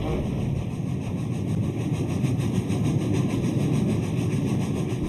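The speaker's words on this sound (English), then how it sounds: "Tornado's staccato exhaust beats reverberate across the city." The Tornado steam locomotive thunders past at speed, giving a loud, sustained roar of exhaust and running gear with a steady mechanical drone throughout.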